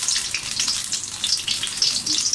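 Onion pakoras frying in oil over medium heat, a steady close hiss and crackle that carries on without pause and without talk.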